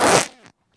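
A single loud fart bursts out sharply, then tails off into a brief rasping flutter before cutting to silence, in a church with wooden pews.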